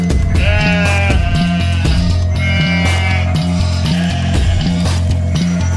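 Sheep bleats, inserted as a sound effect, appear as a few wavering cries over a loud, steady, rhythmic music bed.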